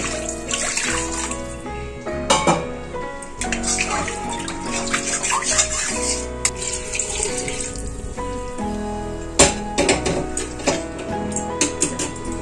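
Water is poured from a wok into a pot of arhar dal khichuri, giving a steady near pouring and splashing sound with a few sharper clatters of the vessels.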